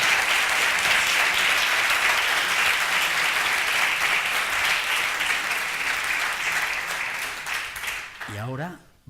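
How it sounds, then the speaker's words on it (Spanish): An audience applauds warmly at a gastronomy innovation event, dense sustained clapping from a crowd that fades near the end as a voice begins speaking. "un caluroso aplauso para ellos"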